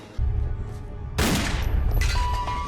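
Gunfire plays from the TV series Angel, episode "Smile Time": a quiet stretch, then a sudden loud burst of shots that keeps rattling on over a low rumble.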